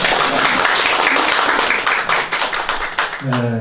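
An audience at a policy forum gives loud, sustained applause, dense clapping from many hands filling the room, with a voice starting to speak over it at the end.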